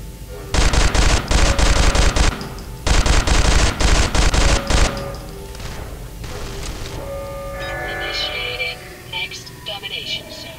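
Rapid automatic gunfire from the Interstellar Marines first-person shooter crackles in two loud sustained bursts, followed by fainter shots and electronic game tones as the firing dies away.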